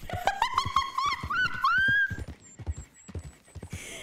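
A horse in the video game Red Dead Redemption 2 whinnies in a long rising neigh while hooves clop in an uneven rhythm nearby, with a faint high chirping afterward.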